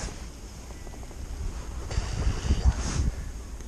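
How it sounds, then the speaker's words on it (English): Wind gusts buffet the microphone at an outdoor fishery during a live fishing match, a low rumbling roar that strengthens toward the end. "Wind's getting a bit naughty now."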